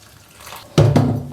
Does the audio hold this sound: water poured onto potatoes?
yes